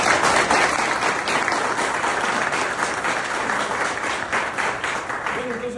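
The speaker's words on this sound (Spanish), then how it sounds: "para que pida un aplauso" Audience applause at a gathering, a dense, steady wash of many hands clapping that holds for several seconds and tapers slightly, with faint voices mixed underneath.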